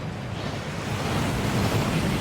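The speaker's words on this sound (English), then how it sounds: "That waterfall washes away all enchantments." A waterfall in Hogwarts Legacy pours in a steady, dense roar of rushing water, loud and continuous, with no voices over it.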